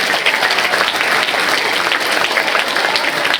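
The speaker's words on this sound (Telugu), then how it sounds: "గట్టిగా క్లాప్స్ కొట్టుకున్నాం మనం" A hall full of students at Suguna Girls Junior College claps loudly for a motivational speaker. The applause is dense and unbroken and stays at a constant, close volume.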